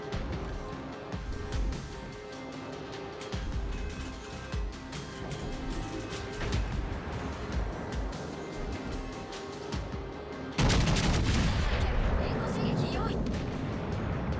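Heavy naval gunfire from the Italian battleship Littorio in a naval combat game, booming salvos under continuous game noise, with a loud, dense blast near the end.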